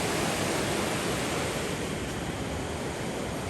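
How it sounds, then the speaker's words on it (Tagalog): Strong water current after heavy rain on a farm rushes in a dense, steady hiss and roar, constant and fairly close with no voices over it. "Malakas-lakas pa rin yung agos ng tubig."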